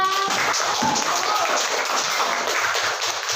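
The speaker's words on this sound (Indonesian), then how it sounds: "Nah, tepuk tangan untuk kita semua." A primary school class applauding together in a classroom, a dense burst of children's clapping that holds steady for a few seconds, fairly close and loud.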